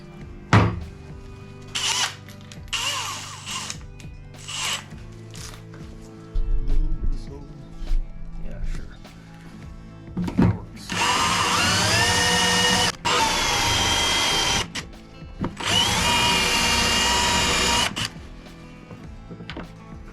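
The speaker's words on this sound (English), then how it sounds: "Back on the drill." Short bursts of tool noise give way to a power drill with a step drill bit whining loudly in long runs, with brief pauses and clunks between them, working on a Mini R56 fuel tank.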